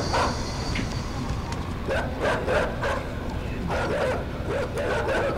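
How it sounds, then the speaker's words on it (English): Dogs barking in the video game Inside, a run of repeated sharp barks and yips in several bursts over a constant low rumbling game background, fairly close and moderately loud. "They're just like barking at it."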